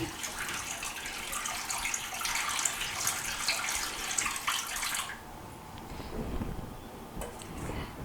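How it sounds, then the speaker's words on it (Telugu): Watermelon juice mixed with cornflour and sugar pours into a kadai with a steady gushing splash for about five seconds, then stops abruptly, leaving quieter bubbling and faint handling sounds. "దాంట్లో మనం రెడీ చేసి పెట్టుకున్న వాటర్ మిలన్ జ్యూస్ ఉంది కదా, కార్న్ఫ్లోర్ విత్ షుగర్తో, అది వేసుకుందాము"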